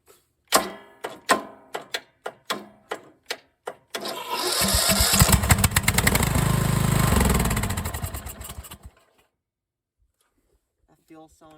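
A Craftsman LT1000 lawn tractor engine cranks in a string of sharp starter bursts, then catches after a shot of carb cleaner and runs loud and close for several seconds before sputtering out; a voice speaks near the end.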